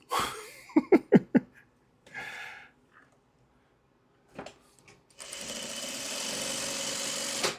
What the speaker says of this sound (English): it's hard to talk and sew at the same time